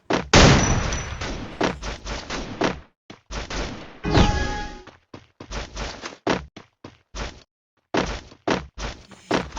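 Shotgun blasts in a shooter video game ring out as a rapid series of loud, booming bursts, some with short gaps between them, close and alone.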